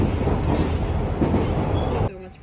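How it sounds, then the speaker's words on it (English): A train in Japan rumbles steadily with loud, close clattering and broadband roar for about two seconds, then the noise drops abruptly to a quieter tone. "We just ran for this train."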